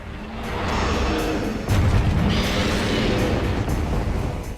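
A morph ball bomb goes off in Metroid Prime 2: Echoes during the Amorbis boss fight, a loud rumbling blast with a sharper burst midway, sustained and dense without talk.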